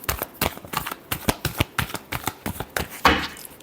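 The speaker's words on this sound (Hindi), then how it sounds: "last shuffle" Tarot cards being shuffled by hand in a steady run of crisp riffling clicks and soft slaps, ending in a fuller, brighter burst of card noise, close and clear with no voice.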